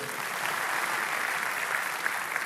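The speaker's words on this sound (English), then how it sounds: "You can clap. Go ahead." Applause from a church audience during a sermon on marriage, a steady even wash of clapping at moderate volume that holds throughout with no talk over it.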